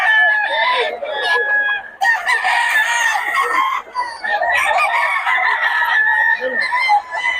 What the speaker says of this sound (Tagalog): Solid ang mga manok ng Boss Tony.